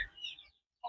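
Chickens feeding on homemade ground feed give a couple of quick, close clucks separated by a brief silence.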